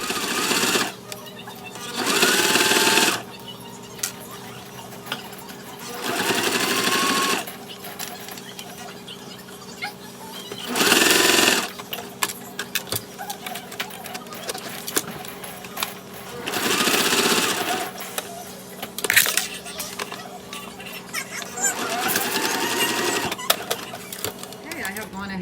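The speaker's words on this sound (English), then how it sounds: "we're gonna close off this panel when we top stitch it" Sewing machine top stitching a fabric bag panel, running in several distinct bursts of a few seconds each with quiet pauses between, fairly close and loud, with light handling noise in the gaps.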